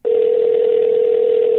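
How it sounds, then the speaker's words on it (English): A steady, loud telephone tone holds on one continuous pitch during an outgoing call while the line waits for someone to answer. "Come on, Blinken, answer the phone."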